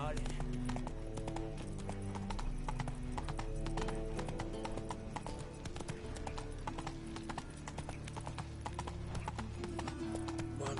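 Roach, the horse in the Witcher video game, gallops with steady clip-clopping hooves under a dense, loud game soundtrack, with a voice talking over it.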